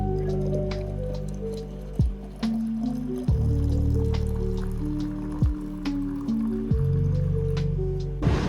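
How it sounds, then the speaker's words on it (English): Water trickles slowly into a jar holding about a teaspoon of flour, a steady close pour with rising glugging tones and a few splashy drips. "Then slowly fill it with water."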